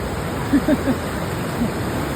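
Strong river current rushes at Tinipak River, a dense, steady roar of flowing water close by, with a few brief faint vocal sounds over it.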